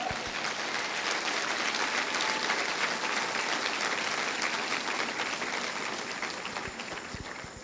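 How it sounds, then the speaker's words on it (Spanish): A church congregation applauds during a Spanish-language sermon, a dense, steady wash of clapping from many hands that fades slightly at the end, with no voices over it. "¿Cuántos le dan un aplauso al Señor?"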